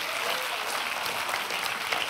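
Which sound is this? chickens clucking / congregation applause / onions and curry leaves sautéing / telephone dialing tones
congregation applause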